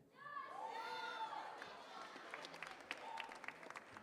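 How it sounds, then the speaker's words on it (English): Applause from a theatre festival audience in Kenya fills the space, steady clapping with scattered cheering over a tonal sound at the start, moderately loud and sustained. "Give them a round of applause as they go back to their stations."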